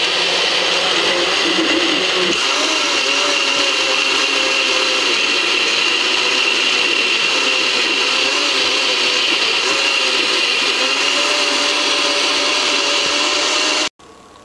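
A Vitamix S30 personal blender whirs loudly and high-pitched at high speed, its pitch shifting after a couple of seconds, then cuts off abruptly at the end.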